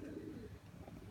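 Pigeons coo softly and steadily outdoors, a low murmuring sound in a quiet, foggy setting.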